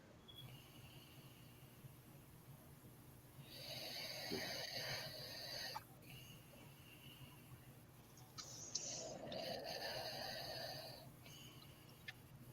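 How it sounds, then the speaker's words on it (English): Someone snores nearby in two long, rasping breaths separated by a quiet pause. The sound is faint against a low background hum, and no one speaks. "That sound like somebody snoring?"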